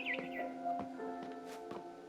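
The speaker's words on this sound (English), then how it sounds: "Then I heard chirping outside my window." Barn swallow chirps outside a window in What Remains of Edith Finch, a few short, faint twitters over a soft tonal ambient hum.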